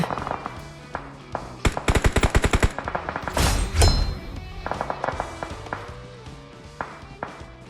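Gunfire in the mobile battle royale game PUBG Mobile, rapid bursts of automatic fire and single sharp shots, loud and close, with a dense volley in the middle and scattered shots after.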